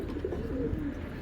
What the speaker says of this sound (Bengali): চলুন কবুতর দুটো আগে দেখাই।